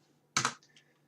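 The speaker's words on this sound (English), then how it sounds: "I can run it by typing python game.py" One brief, sharp press of a computer keyboard key, close and fairly loud, followed by a faint click, in a quiet room with no talking.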